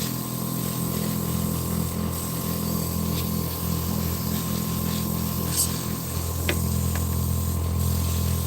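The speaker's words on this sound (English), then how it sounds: "So I'm just going to finish up with a downward spray on this guy." Aerosol paint sprays onto a miniature model's base in one long continuous hiss, close and steady, over a low background hum.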